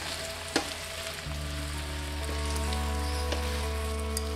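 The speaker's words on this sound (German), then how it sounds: "Als nächstes kommen die Champignons rein. Dann wird zusammen verrührt." Mushrooms frying in a hot pan, a steady close sizzle with occasional scraping stirs on top, building slightly as they settle in.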